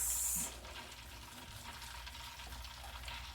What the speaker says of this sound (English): I'll be adding the maximum amount of water. As I said, this is hot water